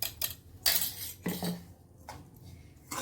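Bitter gourd fry being stirred in a kadai with a spoon, giving several scraping clinks of metal against the pan in irregular bursts, close and fairly quiet, with no voices.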